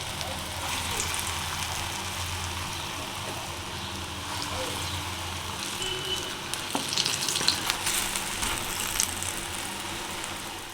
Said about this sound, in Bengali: তেল গরম হয়ে গেছে আমি এবার ছোট ছোট করে বড়াগুলো তেলের মধ্যে ছেড়ে দিচ্ছি